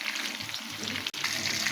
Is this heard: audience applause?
no